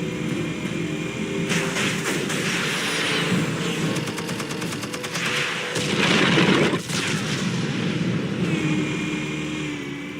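Explosives detonating in a Batman video game: a dense run of booming blasts and crackling gunfire-like bursts over a steady roar, growing loudest midway, with no voices.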